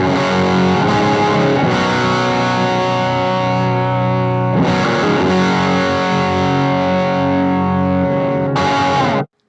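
Electric guitar with split pickups driven through a high-gain mini amp, loud sustained distorted chords struck hard and left ringing, restruck a few times before a sudden stop.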